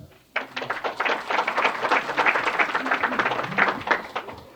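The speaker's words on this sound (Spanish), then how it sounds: "vamos a darle el aplauso de nuevo" A congress audience breaks into sustained applause after a talk, a dense, even roar of many hands clapping that starts abruptly and continues strongly with no speech over it.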